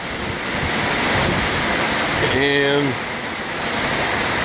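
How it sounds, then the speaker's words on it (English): Heavy Florida thunderstorm rain roars as a dense, loud, steady wash, with water pouring off a roof, under a brief word of speech. "Haven't seen a rain like this in a long time."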